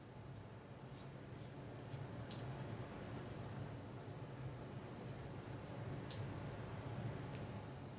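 Hair scissors point cut the crown of a client's head, producing a series of faint, crisp snips scattered over a steady low background hum, close up.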